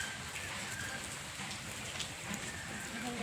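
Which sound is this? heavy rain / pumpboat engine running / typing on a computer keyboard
heavy rain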